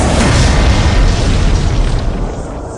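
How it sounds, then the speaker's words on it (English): A massive, close explosion as a villain's exosuit slams into city pavement at a monument, one loud booming roar with crackling debris that slowly fades over a few seconds. "his exosuit exploding into the pavement"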